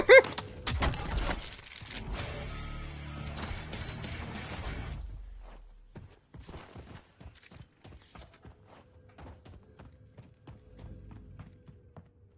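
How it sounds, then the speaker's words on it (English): Magazine swap during a reload in the shooter Warzone: a loud burst of clattering mechanical clicks and metallic rattles at the start, followed by sparse, softer clicks and footsteps, with no talk. "Switching mag."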